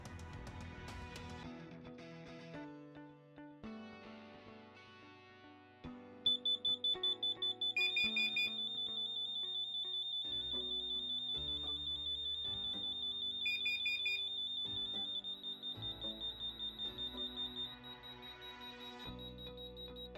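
Several LINKD interlinked smoke and heat alarms sound together during a test, a high piercing electronic tone pulsing in steady rapid beeps over layered chimes, loud and with no talk.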